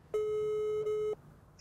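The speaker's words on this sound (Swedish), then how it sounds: "så tänkte jag att vi tar och ringer Niklas och Janne för att se om de har fått någon fisk" A single steady telephone tone lasting about a second, with a brief dip partway, heard while phoning fishing friends; a faint high blip follows in a quiet background.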